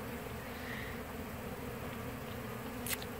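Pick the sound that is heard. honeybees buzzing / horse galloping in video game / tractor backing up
honeybees buzzing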